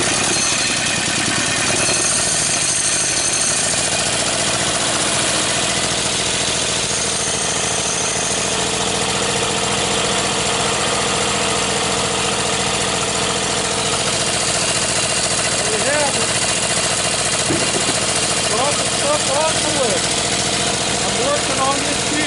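An engine running on gas chugs steadily and loudly throughout, a close continuous mechanical drone with a slight rough knock.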